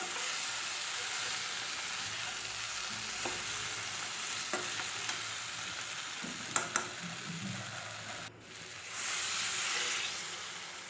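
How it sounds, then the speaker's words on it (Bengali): Vegetables and spices frying for shukto, a Bengali mixed-vegetable curry, sizzle steadily as water goes into the hot pan, with a brief clatter, a short dip in the hiss and then a louder burst of sizzling. "এইবার আমি এর মধ্যে জল দিয়ে দেবো।"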